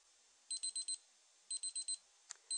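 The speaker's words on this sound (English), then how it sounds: "Okay, our timer has gone off." A heat press timer alarm sounds at close range with sharp electronic beeps in quick groups of four, repeating after a short pause, clear and alone with no talking.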